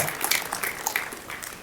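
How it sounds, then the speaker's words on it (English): Applause from attendees at a Minneapolis community annual meeting, fairly quiet scattered clapping with uneven bursts, heard at a distance with faint talk beneath. "give her another round of applause"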